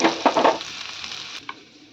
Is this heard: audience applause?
no